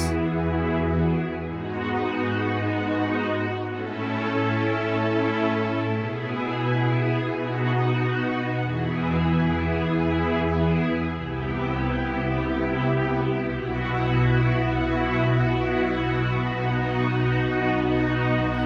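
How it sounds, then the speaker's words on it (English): Sustained backward string chords from an Emulator II sampler swell and shift slowly from one to the next, a lush unbroken pad with no voices. "I have a string sound. And that is coming from the Emulator 2. Backward strings."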